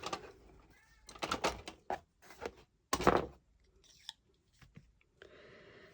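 Scissors cut material for a Lemax lighted model diner base, a few short snips and crunches close by, with quiet pauses between them.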